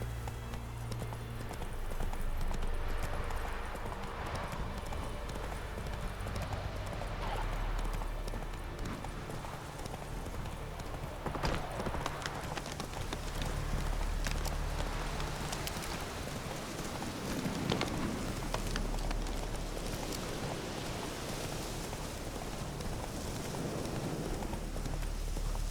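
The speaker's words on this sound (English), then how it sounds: "Whoa there, Roach" Horse hooves clip-clop steadily in The Witcher 3, a rhythmic trotting over a soft background hiss like rain, with no talk over it.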